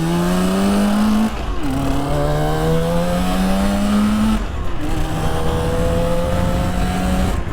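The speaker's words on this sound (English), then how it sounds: "Really beautiful as the bike warms up." A 1966 Suzuki 150 two-stroke motorcycle engine revs loudly and close by, its buzzing pitch climbing in two long pulls with a brief dip between them.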